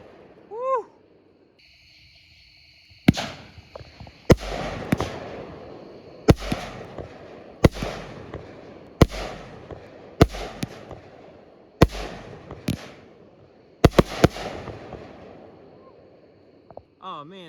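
A 200 gram firework cake called Little Badass fires a series of loud, sharp shots at roughly even intervals, about nine bangs in all, with people's voices heard between them.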